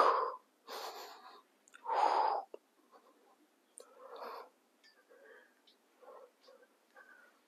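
Loud, close, breathy inhales and exhales during a gentle butterfly crunch or sit-up exercise, spaced in uneven bursts with quieter breaths and pauses between.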